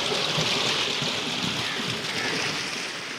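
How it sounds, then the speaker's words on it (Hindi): Tubewell water gushes steadily into village farm fields, a loud, continuous broadband rush and splash that holds evenly for the whole stretch with no voices over it. "ये पानी आ रहा है, खेतों में जा रहा है, ये खेतों को सिराब करने के लिए।"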